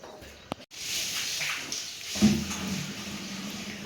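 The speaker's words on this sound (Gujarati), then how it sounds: "પાણી ચાલુ કરી દીધું" Water runs from a tap into a tub at a cattle stable, starting after a brief clunk and carrying on as a steady rushing splash with faint voices in the background.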